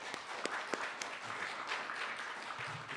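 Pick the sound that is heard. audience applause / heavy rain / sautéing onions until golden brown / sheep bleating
audience applause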